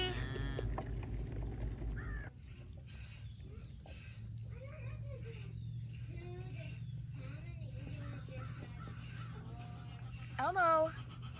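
Goats on a farm during morning chores let out several wavering bleats, a few soft and one louder near the end, mixed with a steady background hum and a person talking.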